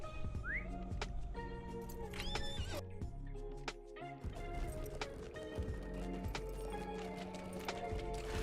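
Horse hooves clip-clop steadily through a video game while a horse neighs and whinnies, set against a busy layer of game music and ambient effects, with no speech.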